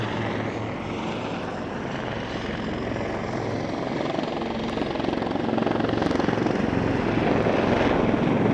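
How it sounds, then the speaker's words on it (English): Helicopters fly a display at the Kemble Airshow, a loud, continuous rotor and engine drone that holds steady throughout and swells slightly toward the end, with no talk. "these are helicopters, so you can't really call it a wing over"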